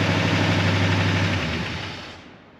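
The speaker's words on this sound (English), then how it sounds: "Faster that revs up because you're adding more timing to it." A 1966 Oldsmobile 442 V8 with an Edelbrock carburetor gives a brief rumbling rev close by, then the engine note drops away and fades toward quiet.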